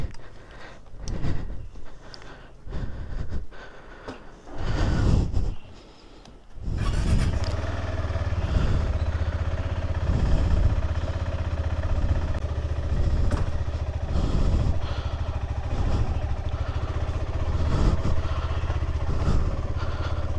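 Motorcycle engine starting and then running steadily, with repeated revving pulses and clatter on a rough off-road track in Arunachal Pradesh, northeast India, after a few loud knocks and handling sounds.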